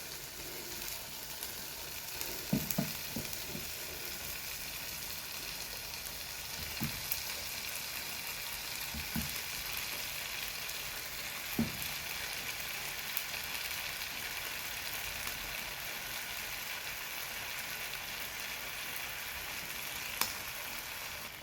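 Chicken drumsticks pan frying in oil fill the space with a steady, even sizzle and crackle, broken by a few soft knocks of a utensil against the pan, close and continuous.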